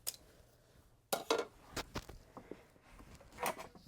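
Metal kitchen tongs and other utensils being picked up and set down, making a handful of soft, close metallic clinks and taps spread unevenly over a few seconds.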